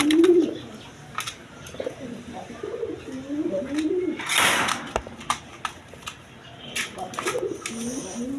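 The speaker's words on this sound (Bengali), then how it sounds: "দেখেন একদম সুস্থ সবল কবুতর" Rajgolla pigeons coo repeatedly at close range in soft, wavering calls, mixed with wing flutters and a burst of noise, while someone talks over them.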